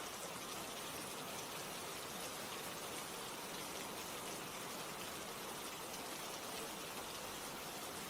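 Steady rain falls throughout, a dense even hiss of drops on surfaces with no breaks, no other sounds and no talking.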